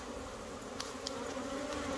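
A dense, steady drone of many honeybees swarming around an apiary hive box as frames are worked, a continuous close hum with no voices.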